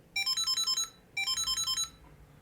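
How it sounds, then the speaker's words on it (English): A Samsung Galaxy SmartTag 2 plays its ringtone: two bright electronic bursts of rapid repeated beeps, each about a second long, close and clear with a short pause between them. "you can go and play the sound on that SmartTag"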